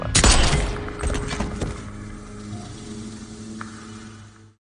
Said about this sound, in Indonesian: Seseorang maju dan langsung menembak.